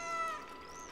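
A cat in the video game Stray gives a single clear, drawn-out meow, close and prominent over a faint background hum.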